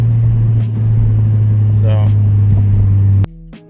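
A Ford Fiesta ST turbo engine builds boost as a loud, steady low drone heard from inside the car, with brief talk over it before it cuts off abruptly.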